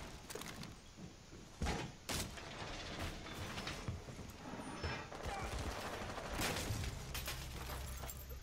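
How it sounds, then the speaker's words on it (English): Gunfire through a window in Rainbow Six Siege, several sharp reports and bangs scattered among background game noise, with a few spaced loud hits and steady rumbling between them. "They shot through the window."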